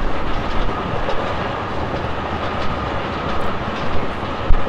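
A moving train in the video game Forgotton Anne rumbles steadily with a dense, continuous low roar and faint clickety-clack, holding an even loudness throughout with one brief louder knock near the end and no talk.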